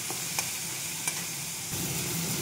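A spice masala with tomato, salt and turmeric fries in a pan while being stirred and mashed, giving a dense steady sizzle with a couple of sharp utensil taps and a louder hiss toward the end.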